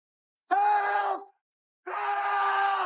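Someone shouts in fright in a horror film set at a party in a morgue: two loud, sustained, strained cries, the second longer, separated by a short silence.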